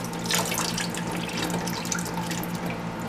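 Water drains out of an American Standard toilet tank during a fill valve replacement, a steady close trickle and gurgle with a few drips, no voices.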